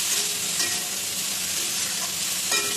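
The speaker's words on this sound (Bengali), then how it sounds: "দেখুন ভেন্ডিটা আমার ভাজা হচ্ছে" Okra sizzles steadily while frying in a pan with turmeric for a mustard okra dish, a close, even hiss with faint crackles and a couple of light stirring scrapes.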